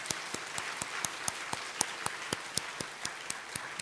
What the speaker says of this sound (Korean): 우리 아이들 위해서 박수 한 번 더 쳐주시겠습니까?